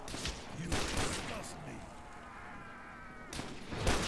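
A Dragunov rifle fires in World at War custom zombies, with rapid bursts of sharp shots at the start and again near the end, separated by a quieter gap.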